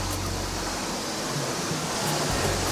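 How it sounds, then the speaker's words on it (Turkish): Roaring water at the Düden Waterfall cave in Kepez, Antalya, a dense, steady broadband rush filling the cave without pause, loud and close, with no voices. "şelale manzarasında böyle bir seste, ses rahatsız eder"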